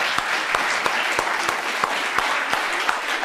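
Courtroom spectators break into applause, a dense, steady wash of many hands clapping with regular louder claps standing out, sustained and close before cutting off abruptly.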